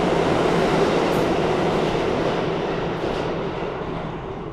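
Subway train, apparently on a New York City line, rolling with a dense, steady rumble and rattle heard from inside the car, easing slightly toward the end, with no talk.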